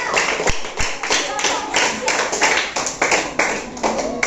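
A group of children clapping together continuously, rapid uneven claps at close range, with voices mixed in.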